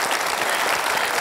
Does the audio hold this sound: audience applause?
yes